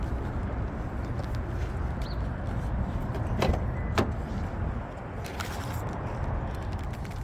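A car door opens as a delivery driver stows drinks inside, giving two sharp clicks in quick succession over a steady outdoor and engine rumble, with no talking.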